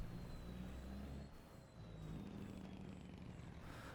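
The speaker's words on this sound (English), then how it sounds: "It's got an engine brake on it." Truck fitted with an engine brake, a loud low rumbling drone that dips briefly mid-way then returns strong, heard up close outdoors on a farm.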